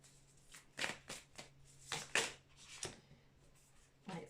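Tarot cards shuffled by hand in a quiet room, several soft riffling bursts spaced irregularly, close and faint with no talking.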